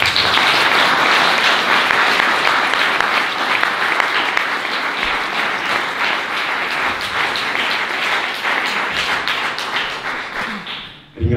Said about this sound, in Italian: E per questo vi chiederei un applauso